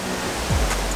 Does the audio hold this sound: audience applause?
no